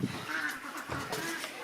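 Older ducks in a winter pen give a few nasal, overlapping quacks and honks, close and moderately loud.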